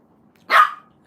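A single sharp dog bark sounds close and loud, rising abruptly from near silence and fading quickly, with faint background noise around it.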